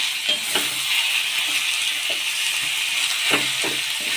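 Cauliflower stems cooking with salt, sugar and slit green chilli sizzle steadily in a pan, while a spatula stirring them adds scattered soft scrapes and knocks close up.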